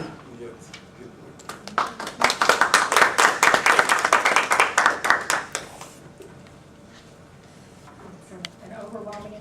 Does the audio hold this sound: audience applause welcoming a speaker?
yes